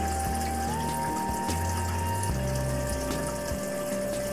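Water pumps steadily into a piranha fish tank being refilled during a water change, a constant rushing flow with a low pump hum and tonal whine, close and alone.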